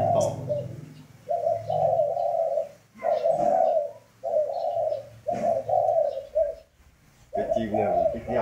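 A spotted dove coos in repeated low, throaty phrases separated by short gaps, fairly close and clear, with faint background noise between calls.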